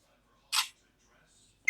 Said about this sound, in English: It immediately takes a picture